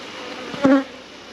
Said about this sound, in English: Put the rest of the bees back in the hive.